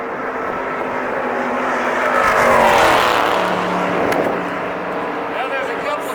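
A race car circles the Daytona speedway, its steady engine roar swelling to a peak as it passes and then settling back, with a voice talking over the noise throughout.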